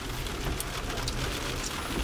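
Steady rain patters on a surface, a continuous soft hiss with scattered louder drops and no voices.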